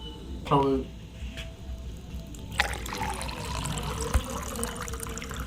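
Chocolate tea being strained and poured, a thin liquid trickle and splashing into a cup with a clink, while a voice talks over parts of it.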